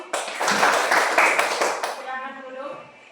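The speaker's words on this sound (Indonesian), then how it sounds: "Oke, tepuk tangan untuk kita semua dulu." A classroom of students claps together during a lesson, a short burst of dense hand clapping that fades out as a voice begins to speak.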